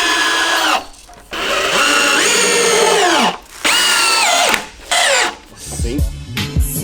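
A power drill drives preset screws into a 2x4 wooden frame for a garage loft. Several loud whirring bursts rise in pitch as each screw runs in, with brief gaps between them and a clattering finish.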